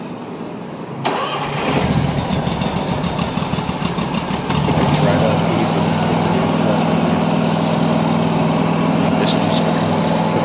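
A small engine on a new machine is cranked and catches after about a second, settling into a steady, loud, close running drone that holds for the rest of the stretch.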